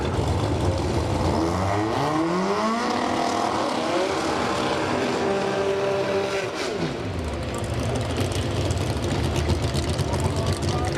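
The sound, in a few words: drag racing cars doing burnouts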